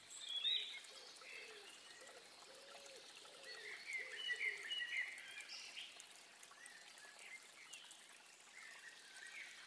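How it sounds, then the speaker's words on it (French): Faint, scattered birdsong chirps high above a soft, steady wash of ambient noise resembling trickling water or light rain, no voices. "Et écoute le chant des oiseaux."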